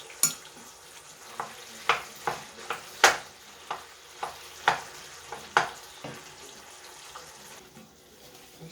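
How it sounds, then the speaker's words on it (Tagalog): A spoon scrapes and taps through thick ube biko rice mixture in a pan, producing a dozen distinct, quiet stirring knocks at an uneven rhythm, faint and close. "haluin lang siya ng haluin hanggang malapot na siya"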